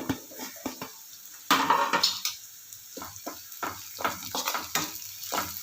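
Green chillies and chilli flakes sizzle in a pan over a low flame, with a steady frying hiss broken by scraping stir strokes and a few soft clinks of a utensil against the pan.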